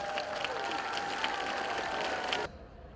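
Crowd applause for a large combined children's and youth choir at a Victory Day outdoor concert in Irkutsk, a steady wash of clapping over a sustained tone that cuts off abruptly near the end.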